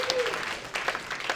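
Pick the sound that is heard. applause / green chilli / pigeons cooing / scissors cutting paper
applause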